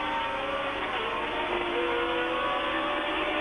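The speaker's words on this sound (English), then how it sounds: "Jody Scheckter going round the parabolique, accelerating out, up over the crest" A 1979 Formula One race car accelerates out of the Parabolique corner at the French Grand Prix with a loud, continuous high-pitched engine scream that rises as it climbs through the gears.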